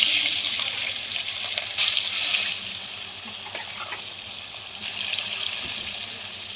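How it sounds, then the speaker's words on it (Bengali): Pangas fish pieces sizzling in hot oil in a home kitchen, a broad, steady watery hiss with slight swells, close by and uninterrupted, no voices. "তেলটা ভালোই গরম হয়ে গেছে, এখন আমি দিয়ে দেবো মাছ।"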